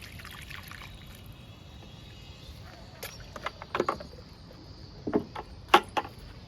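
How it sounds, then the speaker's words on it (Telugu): Liquid poured onto a young moringa (drumstick) plant, heard as intermittent trickles and small splashes that grow louder and more frequent toward the end, over a faint outdoor background. "ఈ మొక్కకు కూడా లిక్విడ్ ఇస్తున్నాను, ఈ మునగ మొక్కకు కూడా"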